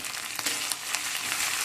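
Whole cumin, ground ginger-green chilli paste and coriander powder frying in a pan, a brief continuous hiss of sizzling oil with faint crackles.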